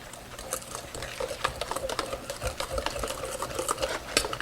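Flour, milk and egg whisked into a thick crepe batter paste in a bowl, a steady stream of quick, soft tapping and scraping strokes with no talking.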